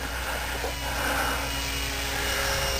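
A Nitroplanes 800mm P40 radio-controlled model plane flying overhead, its small electric motor giving a steady high whine that holds even and moderately loud against outdoor air noise.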